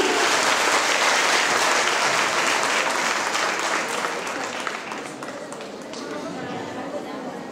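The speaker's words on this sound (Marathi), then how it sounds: "एकदा जोरात टाळ्या वाजवा आराध्यासाठी." An audience claps loudly and continuously for a girl named Aradhya at a gathering, dense sustained applause that eases slightly toward the end, with some crowd murmur underneath.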